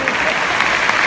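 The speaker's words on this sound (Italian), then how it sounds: "Fate un applauso di incoraggiamento più che altro." A theatre audience at an Il Volo show claps in encouragement, giving a short, dense burst of steady applause.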